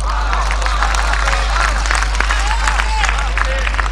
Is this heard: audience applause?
yes